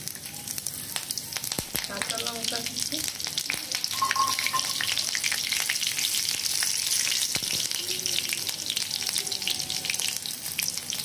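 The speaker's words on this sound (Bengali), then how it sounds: "ফোড়ন দিয়ে ফোড়নটা একটু ভাজা ভাজা হয়ে গেলে এর মধ্যে দেব কাঁচা লঙ্কা কুচি" Chopped green chillies frying in oil tempered with whole garam masala, producing a loud, continuous sizzle with crackling spits and a few stirring scrapes, close up and without talk.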